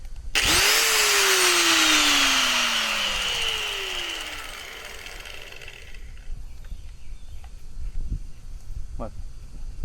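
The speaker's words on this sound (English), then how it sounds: "Good old cut-off wheel." An abrasive cut-off wheel bites into a jon boat's aluminum hull, a loud, harsh grinding whine that starts abruptly, holds steady for several seconds, then fades and winds down into quieter background noise.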